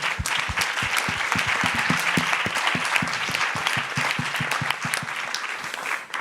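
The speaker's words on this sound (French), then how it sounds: "je pense qu'on peut tous vous applaudir" A conference audience claps warmly for several seconds, many distinct hand claps merging into full, close applause that stays strong throughout.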